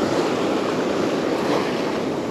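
Ocean surf on a fishing beach rolls as a constant broadband roar of breaking waves, loud and unbroken, with some wind noise on the microphone and no talking.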